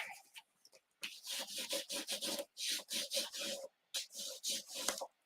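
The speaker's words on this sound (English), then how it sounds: "we'll take our bone folder as usual and burnish that back" A bone folder rubs back and forth across paper card in a quick rhythmic series of scraping strokes, close and fairly quiet, with one brief pause between runs.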